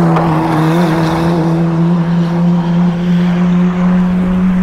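An ex Red Bull Formula 4 race car drives at Bira circuit in Pattaya, Thailand, its engine a loud, close, steady high-pitched drone holding a constant tone with slight wavering and no talk.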